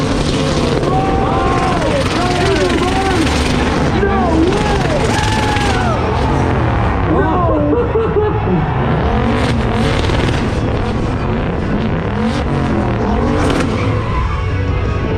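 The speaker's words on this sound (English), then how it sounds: "All 4 tires are smoking." AWD LS-swapped Audi doing a burnout at a Cleetus and Cars burnout competition, its V8 screaming and bouncing off the limiter continuously, very loud and close, with crowd noise underneath.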